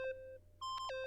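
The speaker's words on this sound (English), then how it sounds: "Stop that goddamn beeping and say something." Electronic beeping in the Danganronpa video game: a few clear, tonal beeps in quick succession, a sustained tone followed by a brief gap and then a sharper cluster of bright beeps, heard alone.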